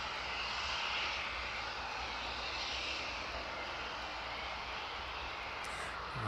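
Boeing 757 airliner taxiing off the runway onto the taxiway at East Midlands Airport in the evening, a steady loud engine roar and whine held evenly throughout, with no talking.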